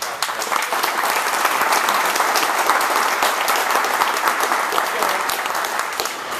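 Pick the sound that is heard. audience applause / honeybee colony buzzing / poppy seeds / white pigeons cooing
audience applause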